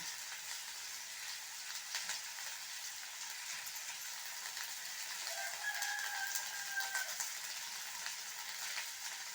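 Green chillies cut lengthwise sautéing in a pan for an egg thokku, a fairly faint, steady sizzle with light crackles and a brief scrape of stirring, no voices.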